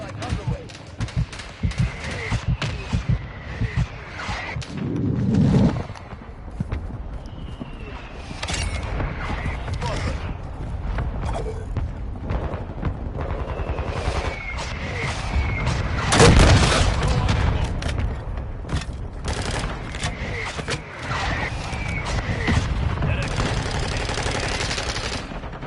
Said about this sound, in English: Mortar strike underway.